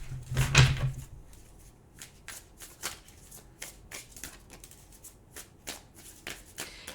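Tarot cards are shuffled by hand, a close burst of riffling followed by a run of short, soft card flicks and taps at an uneven rhythm.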